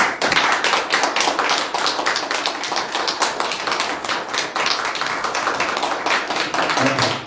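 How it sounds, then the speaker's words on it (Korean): An audience at a lecture on fetal life claps to welcome a university hospital professor, a loud, close, sustained burst of many hands clapping with slightly rhythmic pulses, lasting the full seven seconds without voices. "우리 힘차게 박수로 환영해 주시겠습니다"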